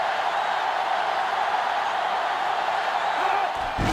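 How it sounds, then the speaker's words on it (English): Crowd noise in the NCAA Football 2005 video game, a steady loud roar of cheering stadium fans filling the whole moment, with a brief thump near the end. "this crowd is going absolutely insane"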